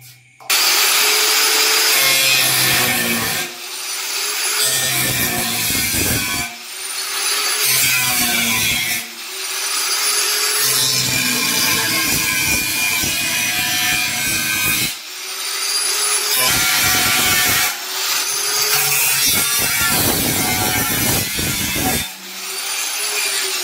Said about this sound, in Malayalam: അപ്പൊ നമ്മളെ ഇത് കറക്റ്റ് റൗണ്ടായിട്ട് കട്ട് ചെയ്തെടുത്തിട്ടുണ്ട്.